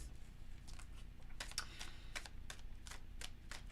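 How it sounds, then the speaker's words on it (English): Quick papery flicks and soft clicks in irregular bursts, tarot cards being shuffled close up against a quiet background hum. "Let's give it a good shuffle and see what it says."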